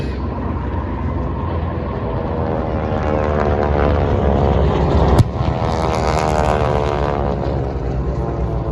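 WWII propeller warplanes, a Zero chased by a P-36, drone loudly and continuously overhead at a Pearl Harbor reenactment air show, with a sharp crack partway through and the roar swelling as they pass.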